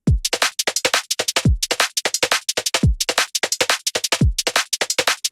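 Drum loop run through a four-band vocoder, giving a snappy, gated electronic beat with a steady rhythm of sharp hits and deep kick drops, played alone without any talk.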